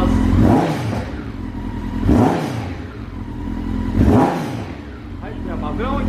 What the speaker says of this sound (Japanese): はい、ではね吹き上がりいきたいと思います。